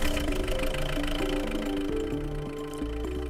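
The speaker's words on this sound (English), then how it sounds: "with the gear in neutral, start the engine" A light vehicle engine runs steadily in neutral during a prestart check, a continuous mid-pitched idle drone with faint tonal hum and no talking.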